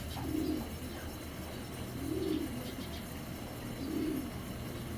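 Racing pigeons coo in three soft, evenly spaced low calls over a constant background hum, close by and unhurried.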